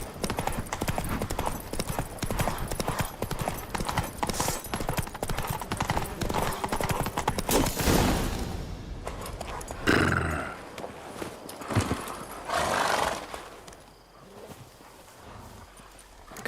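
A horse in the video game The Witcher III gallops with steady, close clip-clop hoofbeats, which break off and turn into scattered stamping and a whinny near the end, with a faint voice now and then.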